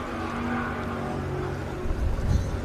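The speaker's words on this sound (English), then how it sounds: "just warming their engines up" Formula 1 powerboat engines idle and warm up on the Manning River's Blackford's Bay before a heat start, a steady low droning rumble heard from a distance that swells slightly toward the end.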